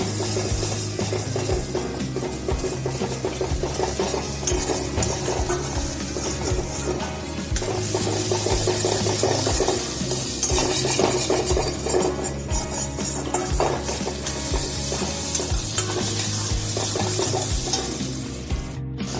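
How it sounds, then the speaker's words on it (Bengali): Beaten egg stirred continuously and fried in a pan into a scramble, a steady wash of sizzling and scraping with irregular stirring clatter throughout, no talk. "এখন ডিমটাকে কন্টিনিউ নেড়ে এটাকে ভুজিয়া মতো তৈরি করে নিতে হবে"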